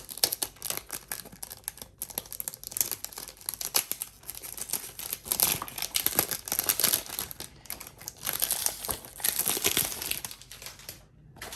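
Tom Ford perfume packaging, the box for a 100 ml bottle, is handled up close, giving irregular crinkling, rustling and soft crumpling of paper and plastic in quiet bursts with no talk.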